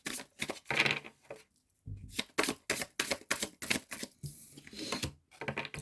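Rune cards are shuffled and handled up close: a quick series of crisp papery slaps and flicks in uneven bursts, with a short pause partway through.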